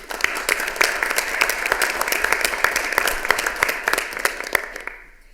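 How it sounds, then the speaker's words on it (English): An audience at a city council meeting breaks into brisk, sustained applause. It holds steady for about five seconds, then fades out quickly. "Let's give them all a big round of applause."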